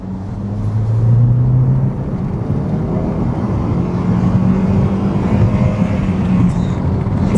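A Saab 9-3 2.0t with the 185 hp B204E turbo engine pulls hard at full throttle, a loud, steady drone of engine and road noise building and holding throughout with no talk.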